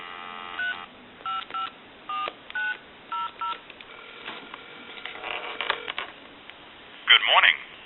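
An AT&T Trimline telephone dials a number, giving a run of evenly spaced touch-tone beeps, followed by a burst of a louder, brighter sound near the end.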